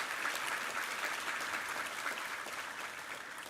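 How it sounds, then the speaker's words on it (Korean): A church congregation claps through a Sunday worship service, steady broadband applause that holds for the whole stretch and tapers slightly toward the end, with no voices on top. "우리 하나님께 감사와 영광의 박수 올려드리겠습니다"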